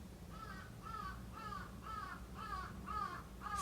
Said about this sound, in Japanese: すごいカラス